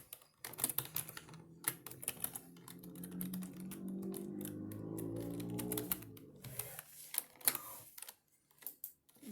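Someone types a username on a computer keyboard while setting up an old PC as a NAS server. Quick clusters of key clicks come at the start and near the end, with a steadier hum in between.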